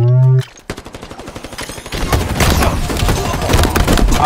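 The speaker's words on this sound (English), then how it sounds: "he got me with a shotgun" Gunfire in Halo Infinite's Slayer Doubles multiplayer, including a shotgun, rings out as a rapid run of loud, close shots that grows denser and heavier over a few seconds after a brief tonal sound at the start.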